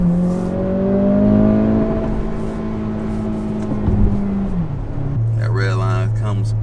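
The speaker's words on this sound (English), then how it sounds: "people say there's a lot of road noise in here" Cabin drone in a 2023 Acura Integra on the move: a steady low engine and road rumble with pitch shifting as it accelerates and changes gear, under someone talking.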